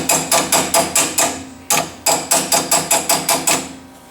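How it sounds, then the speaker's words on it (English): A ratcheting hammer on a 1960 VW Double Cab, tapping a spring plate flush: sharp, loud metallic impacts in a steady rapid rhythm, about seven strikes, a short pause, then another run of about nine, close up. "Again with your ratcheting hammer."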